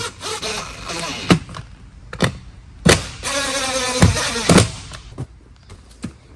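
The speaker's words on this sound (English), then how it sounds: "And then I'm just going to lightly drive them in." A power driver whirs in repeated short bursts, driving screws into a Deckmate Premium 28-inch pontoon corner seat, with sharp clicks and thumps between runs.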